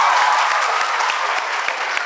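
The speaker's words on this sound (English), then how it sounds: "May they have a round of applause." Sustained dense applause from an audience at a high school debate contest fills the whole stretch, steady and loud with no talk over it.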